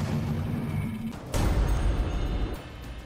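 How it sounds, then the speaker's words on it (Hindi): Artillery cannon shells fire and explode in the Russia-Ukraine war: a rumbling background gives way to a sudden deep boom that rolls on as a low, lingering roar. "तोप के ये बरसते गोले आज यूक्रेन को मिट्टी में मिला रहे हैं"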